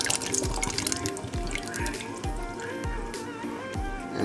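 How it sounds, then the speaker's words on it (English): A whole container of liquid poured into a pot of plantain porridge with farina, giving a steady close splashing trickle with regular dripping pulses throughout. "The whole container goes in the pot"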